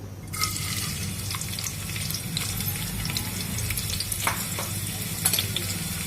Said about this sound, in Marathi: याला थोडासा कांदा टाकू